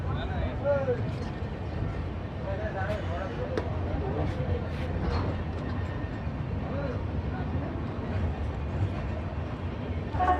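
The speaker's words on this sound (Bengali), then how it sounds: "ট্রেন এসে পৌঁছলো এই আজিমগঞ্জ জংশনের 5 নম্বর প্ল্যাটফর্মে" A train pulls into platform 5 at Azimganj Junction, a steady low rumble of rolling wagons with faint squeals and clatter throughout. Voices talk faintly in the background.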